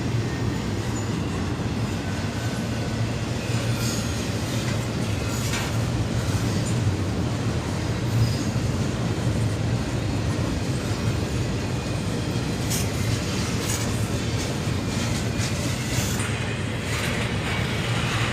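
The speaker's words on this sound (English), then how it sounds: "The intermodal containers just keep coming." A long CSX intermodal freight train of containers rumbles steadily past nearby, with continuous rolling wheel noise and occasional metallic clanks and squeals.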